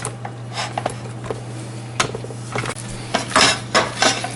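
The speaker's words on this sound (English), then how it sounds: "I'm going to move this off the burner that was hot to a cold one" Metal pan shifted from a hot stovetop burner onto a cold one while making cheese puffs: a few close clanks and scrapes of cookware against the grate, scattered clatter with brief gaps, no talking.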